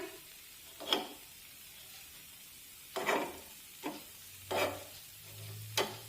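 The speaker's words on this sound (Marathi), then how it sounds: "मंद आचेवर आप्यांची दुसरी बाजू सुद्धा भाजून घेऊया" Jowar flour appe roast in an appe pan over low heat, and spoon stirring and turning is heard as several soft, separate sizzling scrapes and taps spaced a second or two apart, quiet and close.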